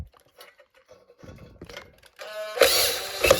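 Screws come out of a Cuisinart waffle maker during a teardown: a few faint scattered clicks, then a louder grinding, ratcheting mechanical burst near the end.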